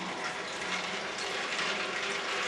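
Water poured into a running Omega VRT 330 vertical juicer, a steady dense wash of splashing and churning with mechanical whir, close and continuous throughout.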